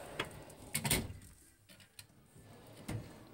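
A drawer on a mechanic's tool cart slides open with a short rolling clatter, followed by a couple of lighter knocks and ticks in a quiet room.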